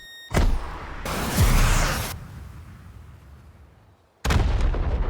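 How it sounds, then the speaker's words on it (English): Missile launcher fired in a VR gun simulator game: a sharp launch blast followed by a loud whooshing roar that fades over a couple of seconds, then a second heavy burst near the end, with no voices. "Super elevate the launcher for missile clearance and pull the trigger."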